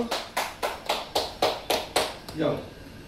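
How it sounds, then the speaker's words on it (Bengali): Children clapping together at a family birthday celebration, about nine quick even claps in a steady rhythm, close by and fairly loud, with voices around them. "बच्चा पार्टी ताली बजाओ।"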